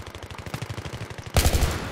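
Rapid automatic gunfire rattles in a steady burst in the video game Battlefield 3, ending in a sudden louder boom like an explosion or heavy shot.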